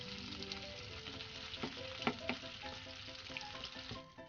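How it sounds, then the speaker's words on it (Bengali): Potatoes fry in a pan with a quiet, steady sizzle, broken by repeated scraping and tapping as a spatula stirs them, the stirring strokes clustering in the middle. "আলু লাল লাল করে না ভাজলেও গায়ে একটা হালকা কোটিং হবে, এরকমভাবে আলুটা নাড়াচাড়া করব।"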